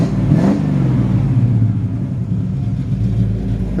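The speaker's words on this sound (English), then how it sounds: "Really, really nice sounding exhaust." A 1953 Ford F-100 truck's exhaust revs up loud and close, a deep throaty burble climbing in pitch then settling into a steady rumbling idle, with no talking.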